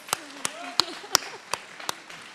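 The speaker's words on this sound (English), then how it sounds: "Give her a big round of applause." A handful of sharp, separate hand claps ring out at a steady pace from an audience applauding a singer at a local live show, fairly quiet with faint voices murmuring underneath.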